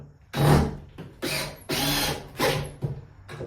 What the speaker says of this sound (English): And literally drive 2 screws and you're done.